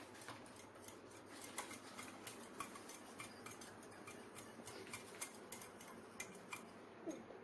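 Egg sandwich filling being stirred with salt and pepper, light rhythmic scraping and clinking of a utensil against a bowl, quiet and close, with regular ticking strokes.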